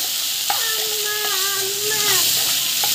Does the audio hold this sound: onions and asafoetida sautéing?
yes